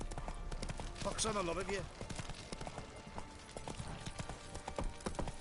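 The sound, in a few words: horse hooves clip-clopping, from video game The Witcher 3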